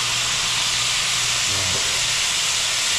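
Balsamic vinegar hisses steadily in a hot pan alongside chicken and sausage, a constant broadband steam hiss with a faint low rumble and no pauses.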